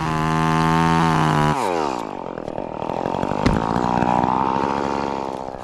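A chainsaw cuts out a chunk of a tree spar during rigging work, a loud steady engine whine that drops in pitch as the chain bites into the wood and keeps labouring through the cut.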